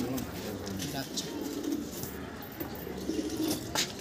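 Soft, low pigeon coos repeat close by in a quiet room, muffled and gentle, with faint background rustling.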